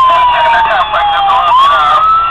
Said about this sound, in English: the sirens will run through for a little bit